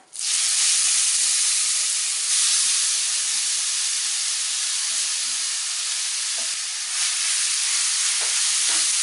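Bottle gourd frying in about three tablespoons of hot ghee in a kadai gives a loud, steady, unbroken sizzle that hisses throughout with no talking.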